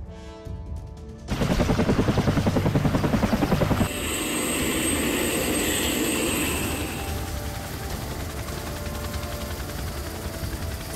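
A Bell 212 military helicopter of the Royal Bahrain Air Force's helicopter wing flies close by, its rotor thumping in a fast, loud, even beat that gives way to a steady whine and roar.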